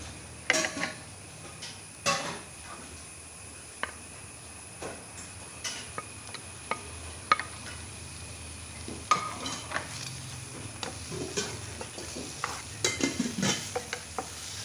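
Onions and tomatoes being sautéed in a pan for an egg dish, with repeated scraping stir strokes and clinks over a steady low sizzle throughout, no talking.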